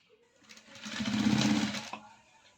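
A sewing machine runs a single short burst while stitching the neck piece of a cross-cut blouse, ramping up, humming loudly and close for about a second, then stopping.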